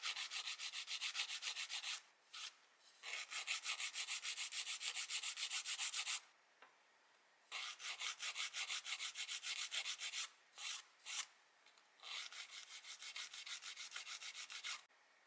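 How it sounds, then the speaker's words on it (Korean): A nail file shapes fingernails in steady rapid back-and-forth strokes, crisp and close, in several bursts separated by short pauses, with no talking. "그리고 파일 사용해서 이제 쉐입을 좀 정돈을 해줍니다"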